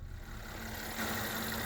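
Under the hood of a 2016 Mercedes E350 Sport 4Matic wagon, the engine idles smoothly with a low, steady hum and a faint whine that swells slightly partway through, with no talking.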